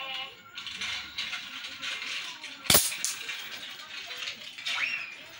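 One sharp, snappy shot from a Desert Eagle airsoft pistol cracks out midway, set against faint background noise and rustling.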